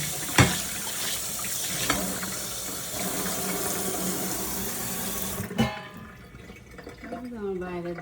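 Tap water runs steadily while greens are washed in a sink, a continuous splashing flow with a few louder sloshes, and a voice talks over it.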